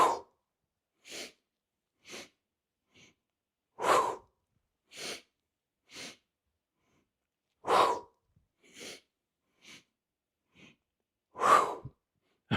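Deep breathing exercise done as a guided routine: about a dozen separate breaths, loud near inhales and exhales with gaps of silence between them, fairly evenly spaced, with no talking.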